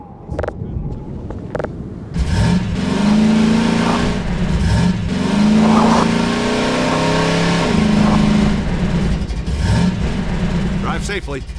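A car engine in the Half-Life 2 game idles, then revs and drives in repeated rising surges, loud and close, with brief speech at the start and end.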